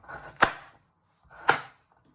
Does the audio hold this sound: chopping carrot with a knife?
yes